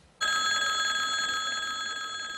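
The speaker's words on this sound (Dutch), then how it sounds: "Een nieuwe bel voor de Tweede Kamer." Newly composed division bell for the Dutch House of Representatives sounds abruptly as a continuous bright electric ringing tone, steady and sustained after a sharp onset, fairly loud and alone.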